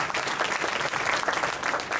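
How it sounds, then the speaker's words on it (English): A school jazz band concert audience applauds steadily, a dense wash of clapping heard from within the hall, fairly loud throughout. "Another round of applause for Liza."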